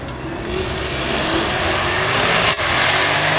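Audi R8 supercar engine, sharing parts with the Lamborghini Huracan, roaring steadily and loudly at a supercar weekend run, a sustained close engine note with a brief dip near the end.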